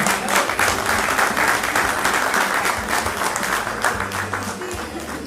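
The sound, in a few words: audience applause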